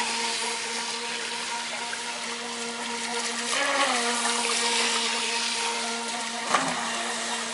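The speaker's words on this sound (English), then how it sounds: "And they're pretty quick, little jet boats." A steady whining motor hum of small toy jet boats churning through pool water, pitch rising and dipping briefly, with a soft splash near the end.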